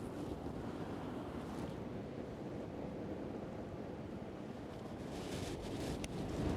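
Waves rolling and breaking over a sandbar behind a reef on the Western Australian coast, a steady broadband wash of surf with heavy wind buffeting the microphone throughout.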